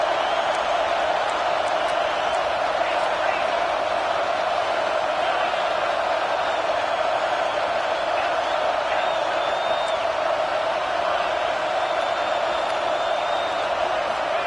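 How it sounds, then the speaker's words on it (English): Loud, steady roar of a large stadium crowd at an LSU football game on fourth down, a dense wash of many voices sustained throughout with no breaks. "Crowd is loud, hoping for a 4th down stop."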